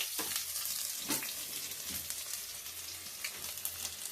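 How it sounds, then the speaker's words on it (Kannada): Onions sizzling and frying in hot oil in a pan for Kannada-style crab curry, a steady close crackling hiss with occasional stirring scrapes, no talk. "ಎಣ್ಣೆ ಕಾದಿದೆ. ಈರುಳ್ಳಿ ಹಾಕ್ತಾ ಇದ್ದೀನಿ."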